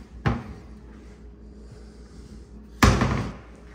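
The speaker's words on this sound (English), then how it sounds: "Door was sticky for some reason, but they all close nicely." Two interior doors in a house, one that tends to stick, slamming shut one after the other about two and a half seconds apart, each a sharp close thud, with quiet room noise between.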